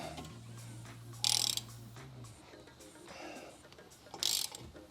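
A ratchet tightening a wheel stud on a Subaru BRZ, with two short bursts of rapid metallic clicking separated by quieter mechanical handling and a low hum, close by.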